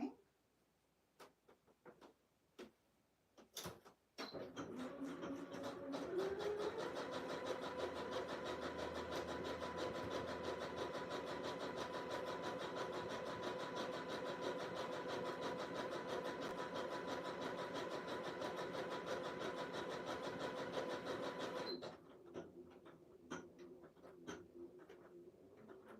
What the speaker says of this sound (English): I'm going to stitch right across that back kind of neckline